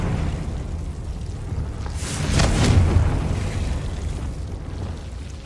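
A Confringo spell blast in Hogwarts Legacy swells into a single rumbling explosive burst with a bright crackling top, rising out of steady game ambience and fading over a couple of seconds.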